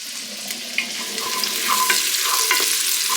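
Food searing in a hot pan with garlic, a steady hiss of sizzling fat that grows denser and louder, broken by a few light taps and scrapes of a wooden spoon.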